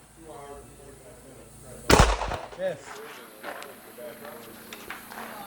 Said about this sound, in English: And then takes his clearing shot.